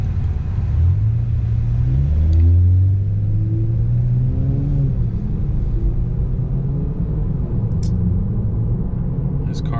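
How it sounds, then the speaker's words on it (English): Toyota Supra with an aftermarket exhaust kit running in city traffic: a loud, deep low rumble that rises briefly as the engine revs, then settles into a steady drone, with someone talking over it. "You can see that Supra I was talking about. It's got a exhaust kit or filter."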